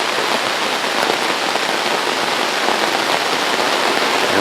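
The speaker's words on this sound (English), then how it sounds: "The rain's pretty much coming straight down." Steady rain falls straight down outdoors in mild weather, a dense, even hiss of drops hitting surfaces that holds at constant loudness with no gaps and no voices.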